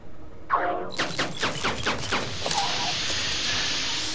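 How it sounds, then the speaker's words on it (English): Turrets firing in Eden Star fire a rapid run of sharp, evenly spaced shots. The shots blend into a rising, sustained whooshing roar, loud and close. "Okay, turrets, now it's time to shoot at things."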